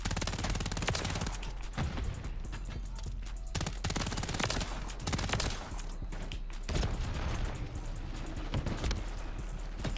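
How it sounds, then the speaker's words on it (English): Dense, continuous automatic gunfire from Call of Duty MW3, loud and close, with rapid overlapping bursts filling the whole stretch. "Who was shooting at me?"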